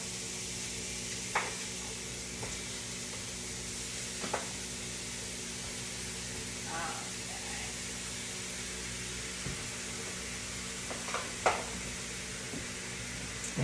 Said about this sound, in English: All right, so meat's in the skillet.